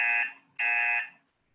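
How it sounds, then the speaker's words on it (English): A meeting's timer buzzer sounds twice: two loud, harsh electronic buzzes, each about a quarter to half a second, separated by a short gap, then silence. "I will switch on the yellow card and press the buzzer twice."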